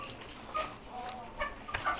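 Chickens cluck softly at close range while eating papaya, giving scattered short clucks over a low background murmur.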